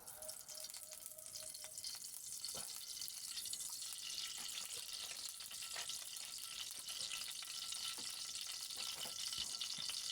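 Oil sizzling in a hot frying pan before eggplant goes in, a steady hissing crackle that holds evenly throughout, fairly faint, with occasional small pops.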